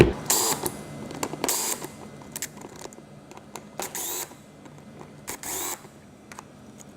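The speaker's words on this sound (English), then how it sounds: "You're going to want to remove and loosen all the 3mm Allen bolts that are here." Allen key loosening small 3mm bolts on the controller cover of a 2018 Kuberg Freerider electric bike, close clicking and ratcheting metal ticks in irregular bursts with brief scraping rasps between, no speech.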